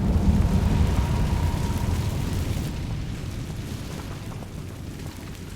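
Incendio fire spell in Hogwarts Legacy: a loud, dense roaring whoosh of flame that starts strong and slowly tapers off, with no talking over it.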